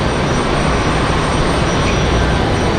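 A Southwest airliner lined up on the runway at Raleigh-Durham International roars with a loud, steady jet engine rumble that fills the whole clip, with no voices.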